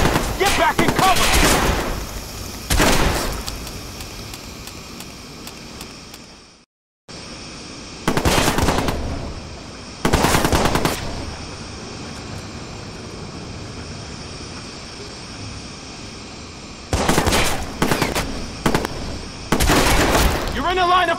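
Bursts of gunfire in the video game Watch Dogs come as repeated loud volleys of rapid shots, separated by steady background noise, with a short silent break in the middle and in-game voices calling out among them.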